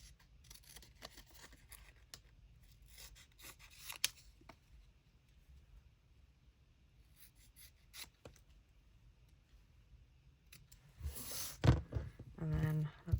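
Scissors snip through paper for a junk journal cover, a series of soft, close cutting strokes that grow louder and more rapid toward the end, with quiet rustling between cuts.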